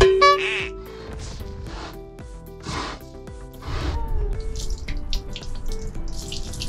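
Water poured over a dog's head and ears during a bath, splashing and running in bursts under bright music, with short pours rising and falling through the clip.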